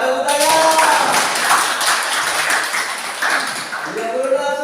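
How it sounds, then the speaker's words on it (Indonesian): Students clap together in a classroom during a field teaching practice lesson, a dense steady patter of hands over children's voices, close and fairly loud throughout. "Iya, tepuk tangan."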